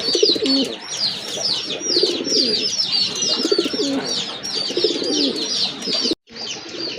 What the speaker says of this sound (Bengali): এটা হচ্ছে আপনার রাজগোল্লা কবুতর তো এটা হচ্ছে ব্ল্যাক অ্যান্ড হোয়াইট কালার